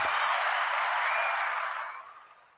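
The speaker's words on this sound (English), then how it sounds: "Round of applause," Applause from an audience at a live Dallas Cowboys draft-pick show, a steady wash of clapping that holds for about two seconds and then tapers off, with no speech.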